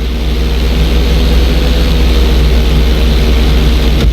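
Propeller airplane engine in Grand Theft Auto 5 during emergency landing practice onto a bridge road, a loud, steady droning hum with a throbbing pulse, close and continuous throughout.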